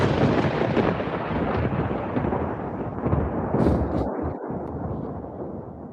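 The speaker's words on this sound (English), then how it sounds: "Got the thunder settle in a bit." Thunder sound effect with a long, deep rolling rumble that fills the whole stretch at steady loudness, with a brief low dip near the end and no voices over it.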